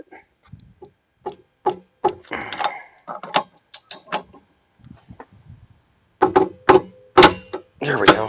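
Sharp metallic clicks and clacks of a torque wrench tightening the rear hub nut on a Dodge Neon, irregular single clicks with short pauses, then a quicker cluster near the end.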